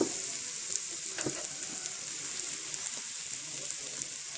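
Country-style fried rice with kale being stir-fried in a pan, a steady bright hiss of sizzling oil, fairly quiet, with a few faint scrapes and taps of a spatula.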